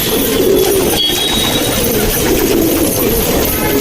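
Pigeons released by a fancier in Amroha coo continuously in a soft, rolling murmur, close and steady against a background wash of outdoor noise.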